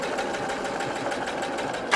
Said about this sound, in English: We're going to sew 1, 2, 3, 4.